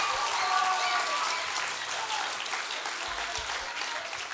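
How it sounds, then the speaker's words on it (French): Warm, steady applause from an audience for a couple of guests, a dense wash of clapping that fades slightly, with voices talking faintly underneath. "Une main d'applaudissements chaleureuse pour eux."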